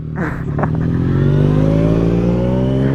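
A Yamaha MT-09 motorcycle exhaust revs loudly up close, a few quick blips giving way to a sustained rising engine note that climbs in pitch and holds strong to the end.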